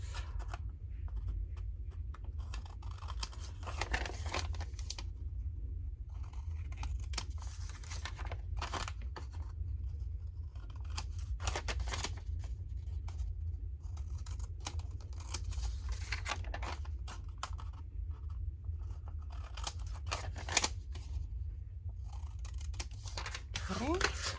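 Scissors cut vellum paper while making vellum pockets: quiet, crisp snips come at irregular intervals over a steady low hum, with a few soft paper rustles between cuts.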